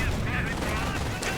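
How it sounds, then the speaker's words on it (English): An MG42 machine gun fires in the Company of Heroes strategy game, giving rapid bursts of gunfire in a busy battle mix with other clatter, heard at moderate level. "An MG42 basically holding out there."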